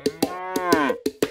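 A cow gives a loud, close, drawn-out moo, while sharp, evenly spaced clanking hits sound throughout.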